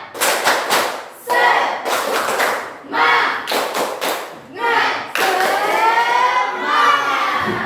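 A classroom group does the 'tepuk semangat' clapping chant, with sharp bursts of synchronized claps alternating with loud chanted voices in a lively, patterned rhythm.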